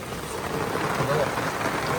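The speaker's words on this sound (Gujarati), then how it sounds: "કેવો વરસાદ" Heavy rain pours down steadily, a dense, even hiss of drops drumming on surfaces.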